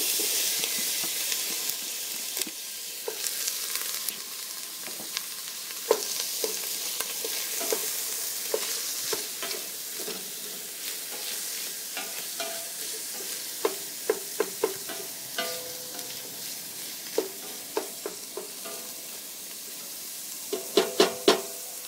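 Garlic, sausage and onion brown in a Dutch oven with a steady, close sizzle, broken by frequent sharp clicks and scrapes of stirring that cluster toward the end.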